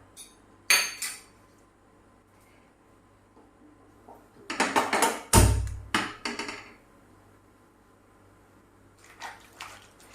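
Chopped vegetable pieces drop into a pot of cooked dal for a Kerala-style curry, giving a few short clattering, splashing bursts with quiet gaps between them and no talking.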